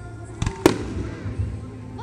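Fourth of July fireworks at Mansfield, Texas: one sharp close bang after a few smaller pops, then a crackling tail, with faint murmuring voices in the background.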